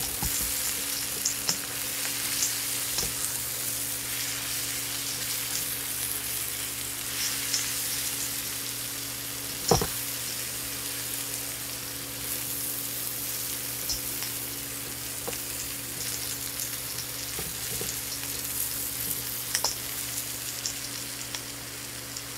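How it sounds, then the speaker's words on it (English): Cabbage frying in a seasoned wok over medium-high to high heat, a steady loud sizzle that runs throughout with occasional stirring clicks and scrapes. "I'm going to go ahead and drop my cabbage in there."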